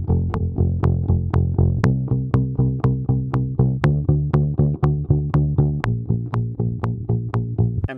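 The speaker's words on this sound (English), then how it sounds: "And we get a bass line that sounds like this." Plucked plastic string instrument playing a bass line through a compressor, octave-down pitch shifter, distortion and tremolo, giving a steady, punchy rhythmic pattern of repeated distorted notes that continues throughout with no talk.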